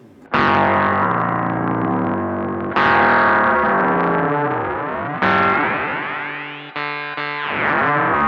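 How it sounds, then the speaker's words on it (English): Distorted guitar chords ring out with a metallic, warbling modulation whose tones sweep up and down, each strike decaying before the next, loud and close. "Now, if I push it to the high, I get more of a classic ring mod sound."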